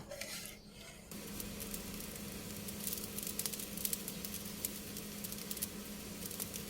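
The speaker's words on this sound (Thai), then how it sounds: "นี่นะคะเดือดแบบนี้แล้วนะคะ ปิดไฟได้เลยค่ะ" Sugar-sweetened pickling liquid for green chilies boils steadily in a pot, giving a continuous close bubbling sizzle with fine crackling pops throughout and no one speaking.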